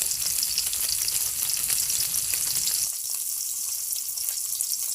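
Small split puti fish fry in oil in a pan, making a continuous bright sizzle with crackling spatter. The sound thins slightly partway through and continues steadily, close by and with no talk.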